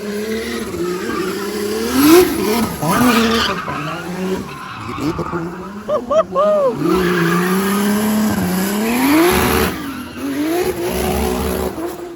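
A race car engine roars and revs loudly up close, with screeching tire squeals and rising and falling pitch throughout.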